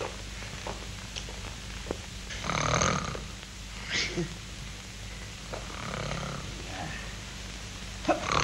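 A man snoring in a 1942 Viennese film scene, slow rasping breaths recurring every couple of seconds over a low steady hum, fairly close and moderately loud.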